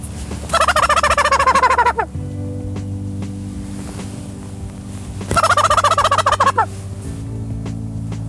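Wild turkey gobbling in two loud, rattling bursts near a field edge at a turkey roost during spring hunting season, with steady low background rumble between calls.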